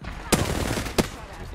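Two sharp gunshots in Apex Legends crack out about half a second apart, close and punchy over a low background rumble.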